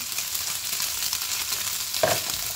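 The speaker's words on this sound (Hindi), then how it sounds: "ये बंद गोभी डाल देंगे और इसको जो है ना हम हिला लेंगे" Cabbage and grated carrot with mince are stirred in a hot pan over high flame, a steady close sizzle and frying hiss with a brief scrape of the spoon near the end, no talking.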